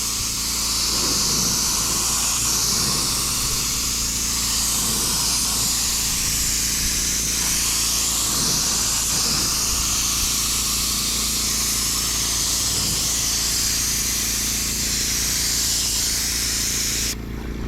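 Continuous hiss of a spray gun painting the body of a 2006 Porsche Cayenne, steady and close, with faint mechanical hum underneath and brief pulses where the spray shifts.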